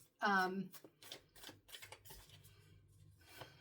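A Nightmare Before Christmas oracle card deck being shuffled, a short, crisp riffle of cards right at the start, followed by quiet rustling while a person talks.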